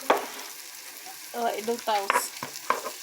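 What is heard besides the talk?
onion and garlic frying lightly in a pan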